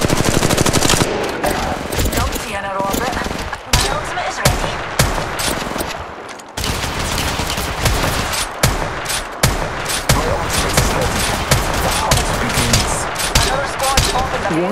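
Rapid automatic gunfire from an Apex Legends battle royale firefight, loud, dense bursts rattling almost continuously with a brief lull midway and sharp individual shots, while a voice talks over the shooting.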